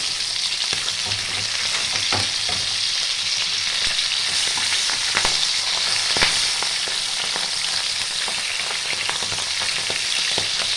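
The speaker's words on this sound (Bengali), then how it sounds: "উল্টো দিকটাও ভেজে নেব।" Continuous hiss of pabda fish frying in a pan, with occasional sharp taps and scrapes of a utensil against it, close and steady throughout.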